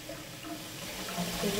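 Cold tap water runs in a steady, close hiss with a slight rise in level toward the end, no voices present.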